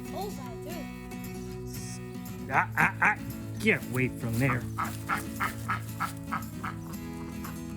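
Ducks quacking near a duck coop, a series of loud, close, rhythmic quacks and honks, with a voice speaking over them.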